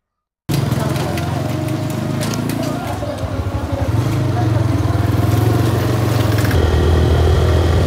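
A motorbike rides along a winding village road, its engine a steady close-up drone that grows slightly louder and rougher partway through, with no talking.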